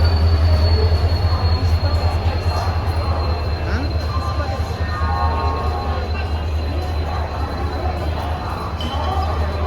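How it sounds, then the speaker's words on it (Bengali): An express train, the KBJ Ispat Express, rumbles steadily along the rails with a constant low roar and faint squealing wheels, loud and continuous throughout, with voices faintly underneath. "আজকে আমরা যাত্রা করছি train number two two eight six one কেভিজে ইস্পাত এক্সপ্রেস"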